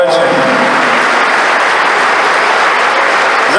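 Loud, continuous crowd applause at an outdoor political rally in Doboj, a dense wash of clapping close up that holds steady for a few seconds with no gaps.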